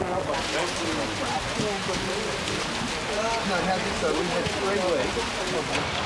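Heavy rain pours steadily on an outdoor film set location, a dense, even hiss of drops on surfaces filling the whole stretch, with faint voices underneath.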